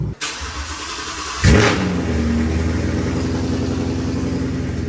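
A Ford Mustang engine cranks and fires up, then roars loudly through its exhaust, holding a deep steady rumble close by.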